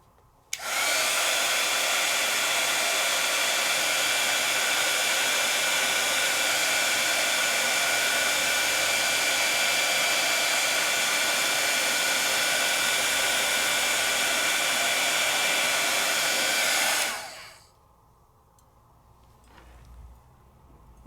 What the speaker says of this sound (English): That was my heat tool sound.